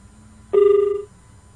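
A single steady phone tone sounds for about half a second as a caller's line drops on a phone-in program, clear and alone against a faint background hum.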